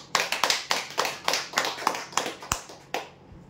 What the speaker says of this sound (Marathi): जोरदार टाळ्या होत्या यांच्यासाठी